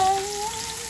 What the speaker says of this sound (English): Sauteing these. This is just onion and pepper.